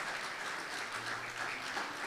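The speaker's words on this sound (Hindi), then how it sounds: "जोरदार तालियां जूलियस के लिए।" Faint, steady applause from an audience greeting a man named Julius as he is shown to a seat of honour, a soft continuous patter of clapping with no break.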